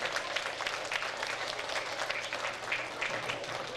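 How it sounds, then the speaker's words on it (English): An audience at a school music performance gives a steady round of applause, many hands clapping together at moderate volume for the whole stretch with no talking over it. "give yourself a round of applause"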